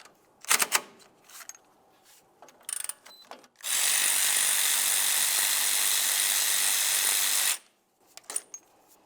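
A power ratchet or impact tool spins out the 10 mm caliper mounting bolts on a 1998-2002 Lincoln Navigator's rear parking brake, with short clicks and clanks around a loud, steady four-second burst of whirring.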